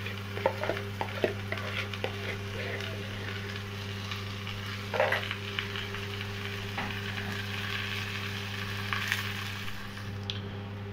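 Chicken pieces fry in hot oil in a home kitchen pan while being stirred, a steady sizzle broken by scraping clicks and clatter of the spatula, with a constant low hum underneath.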